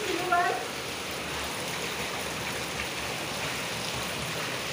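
Steady rain pours down outdoors in a broad, even wash of hiss at moderate level, with a brief higher chirping sound near the start and no speech.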